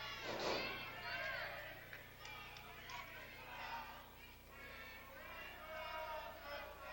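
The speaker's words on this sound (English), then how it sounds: "The crowd is singing" A wrestling arena crowd sings good night in unison, a steady chant of many voices rising and falling throughout.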